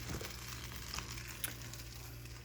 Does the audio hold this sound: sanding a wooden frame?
no